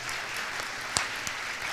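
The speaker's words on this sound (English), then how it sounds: "Round of applause." Steady applause from an audience at an Excellence in Innovation awards event in Muncie, Indiana, a fairly distant, even wash of clapping with a couple of sharper claps standing out.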